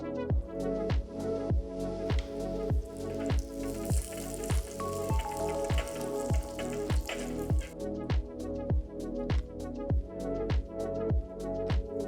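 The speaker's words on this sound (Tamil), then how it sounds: "கொஞ்சம் முந்திரி பருப்பு போட்டு ரோஸ்ட் பண்ணுங்க." Continuous bubbling sizzle of cashews and raisins roasting in hot ghee, with a regular repeated tapping of a spoon against the pan.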